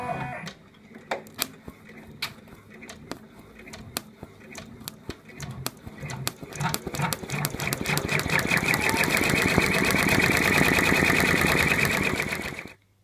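An embroidery machine stitches the mouth of an in-the-hoop elephant, starting with sparse clicking stitches that quicken into a dense, steady mechanical chatter before stopping abruptly, heard up close with no voices.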